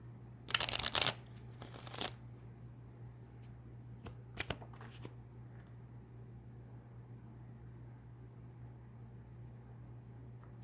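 Tarot cards being shuffled for a reading, with a few quick riffling bursts near the start and a couple of softer shuffles later, heard over a steady low hum in a quiet room.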